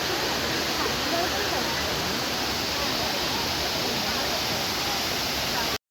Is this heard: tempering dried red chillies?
no